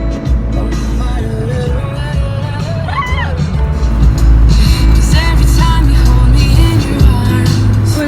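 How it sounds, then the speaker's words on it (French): Cars passing on a busy Los Angeles road, a loud, steady traffic roar with engine drones rising and falling, heard up close and without talk. "on est sur une route, il y a des voitures partout"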